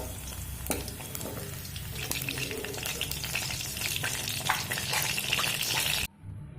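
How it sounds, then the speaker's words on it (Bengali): Chicken pieces frying in hot oil, with a dense crackling sizzle up close and occasional stirring sounds, before it cuts off near the end. "আর বাকি চিকেনগুলোও আমি একইভাবে ভেজে নেব।"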